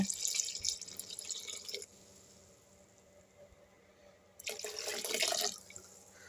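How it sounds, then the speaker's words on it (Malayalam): Milk poured into a pan while cooking rice-flake (aval) porridge with grated coconut, a steady liquid pouring splash in two bursts at the start and end with a quiet gap between. "പാല് ചേർക്കുകയാണ്."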